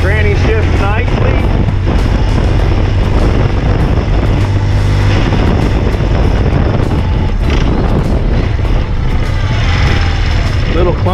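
A BMW Airhead motorcycle engine idles slow and low, a steady throbbing rumble that runs loud and continuous throughout.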